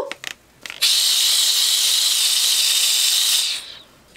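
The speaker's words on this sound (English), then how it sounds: "we're going to see if we can steam that" A handheld steamer hisses steam onto a wig, a loud, steady, close rush of hiss lasting about three seconds after a few short clicks and puffs, then tapering off, with no talk.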